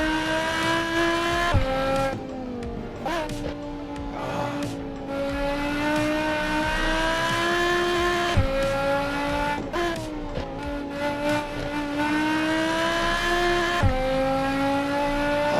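A BMW racing car engine in a video game revs and roars continuously, its pitch climbing and dropping sharply with each gear shift, with occasional tire squeals.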